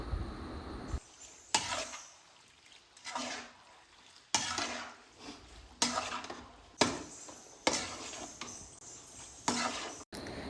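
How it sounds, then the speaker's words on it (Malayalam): Macaroni being stirred in a pan while cooking at night, heard as a series of scraping, clattering strokes that come in bursts roughly every second or so, close and fairly loud, with no talking. "മക്രോണിയും കൂടി ആഡ് ചെയ്തിട്ട് നമുക്കൊന്നും കൂടി അതിനെ ഇളക്കി കൊടുക്കാനുണ്ട്"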